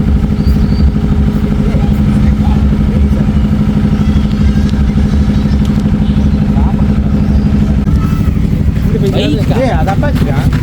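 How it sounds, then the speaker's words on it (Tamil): A motorcycle engine runs steadily with a low rumbling drone throughout while riding in Kerala, with traffic clatter and some background noise around it. "எது மை ட்ரீம் பைக் அப்பாச்சி."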